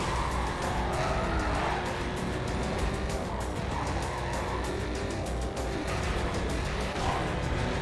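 Two Corvettes race in Need for Speed Carbon, their engines roaring without a break and tires squealing in long skids. The sound is steady and fairly quiet, with no talk over it.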